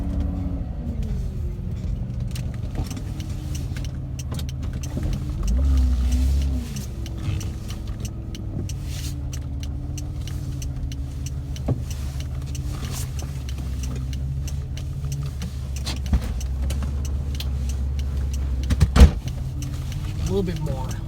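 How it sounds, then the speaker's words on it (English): A car driven slowly through a parking area with a low steady engine rumble, small clicks and thumps, and a brief louder knock near the end. "I'm gonna go on over here and drive the car, clean it up"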